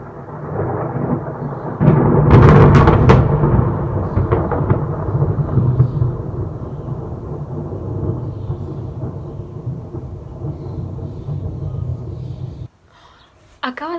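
Deep, long rumble of thunder from a nearby storm, with a loud crack near the start that rolls on for many seconds, falling rain steady underneath and quiet voices near the end.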